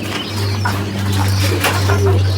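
Racing pigeons, including a well-grown young racer, coo in low, steady murmurs close by, with faint chirps and light background sounds mixed in.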